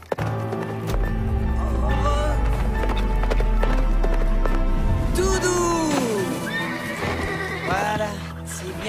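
A horse named Mistral whinnies loudly and repeatedly at close range, with hooves thudding and clip-clopping underneath and a steady low hum throughout.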